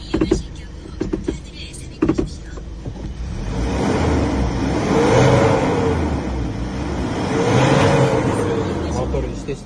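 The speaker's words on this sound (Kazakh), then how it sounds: "Мотор иштесінде ешқандай башқаша үйіндер шықпайды." Hyundai Porter 2 from 2020 with a 2.5-litre diesel engine and automatic gearbox, running steadily with a broad rumbling drone that swells twice. It opens with a few sharp clicks and knocks nearby.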